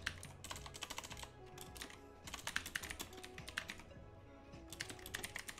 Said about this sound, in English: I keep typing in /mod.